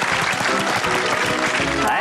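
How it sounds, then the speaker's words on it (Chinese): Children clap for themselves in a classroom, a dense burst of applause that runs steadily for the full two seconds with voices mixed in. "来为自己鼓掌"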